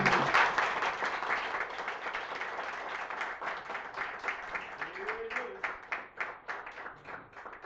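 A lecture audience at a Rothbard Circle gathering in Miami applauds the end of a talk: a dense burst of clapping that gradually thins into scattered, individual claps as it fades.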